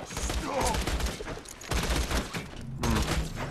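Repeater pistol gunfire in Borderlands 2, a dense stretch of rapid shots with game effects and noise around them, loud and fairly close, with voices briefly audible at moments.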